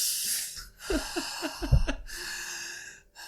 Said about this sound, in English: You just hear breathing on the other.